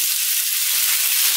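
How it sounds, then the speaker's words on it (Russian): Steady, dense sizzling of potatoes frying over medium heat in vegetable oil in a frying pan, continuous and close, with no talking. "Обжарим картофель на среднем огне."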